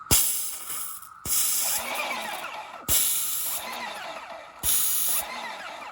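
A cheap Harbor Freight airless paint sprayer spraying water gives three long, loud hissing bursts. Each burst starts abruptly and is separated by brief pauses, and there is no speech.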